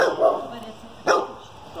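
Dog barking twice, short sharp barks about a second apart, moderately close, in an outdoor setting.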